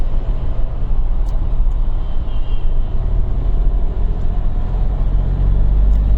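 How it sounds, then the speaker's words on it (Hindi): A car pushes along a foggy road on the route from Haldwani toward Lucknow, with a loud, steady, unbroken rumble of engine and tyre noise heard from inside the vehicle and no talking. "फॉग को चीरते हुए हमारी गाड़ी आगे बढ़ रही है"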